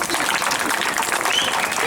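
Audience applause at a Yakshagana show, a dense steady wash of clapping from a crowd that keeps going at an even level for the whole short stretch.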